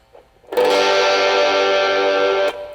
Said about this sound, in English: And now we got our distortion.